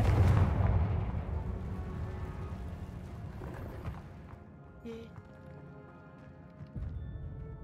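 A Confringo blasting spell from Hogwarts Legacy lets off a single low, rumbling blast that is loudest at the start and slowly decays, followed by quieter game ambience and small clicks.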